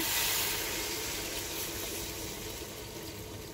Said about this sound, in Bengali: এখন দিয়ে দেবো গরম জল